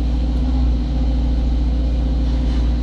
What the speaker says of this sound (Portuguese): O operador está tirando aqui, removendo essas terras para a Bobcat estar vindo pegar para levar o caminhão